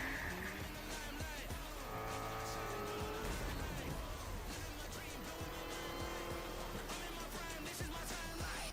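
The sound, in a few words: race car engine and tire squeal in a racing video game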